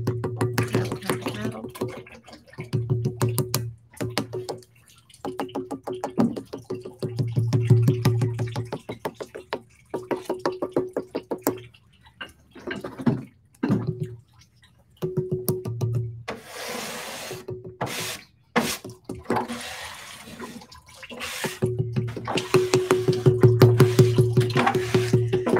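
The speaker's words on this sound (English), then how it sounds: "So I'm going to paddle this jaw in a little bit" A wooden or flat paddle thumps against the jaw of a clay ceramic ghost sculpture, giving a run of dull, close knocks in an uneven rhythm with pauses between bursts.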